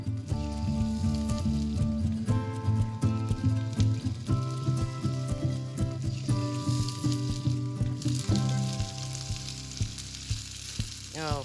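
Salmon paillards sear in a hot pan with a loud, steady sizzle that runs the whole time, while music plays over it and a brief rushing swell rises near the end.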